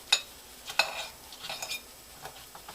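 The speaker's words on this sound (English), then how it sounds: "So I'm just going to twizzle it around a little bit so it's evenly coated." Elk steak is turned around in its marinade, making a few light clinks of a utensil against the dish and soft wet shuffling over quiet background.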